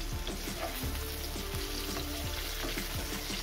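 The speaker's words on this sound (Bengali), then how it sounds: "এইভাবেই কিন্তু লাল লাল করে ভেজে নিতে হবে।" Pointed gourd (potol) fries in oil in a pan for a Bengali badam potol dish, pressed with a spatula, giving a steady close sizzle with scattered scrapes and taps, no voices.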